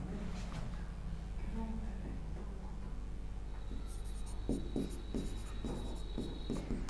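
Chalk or marker scratching on a classroom board in short strokes, faint and close, with room hum underneath.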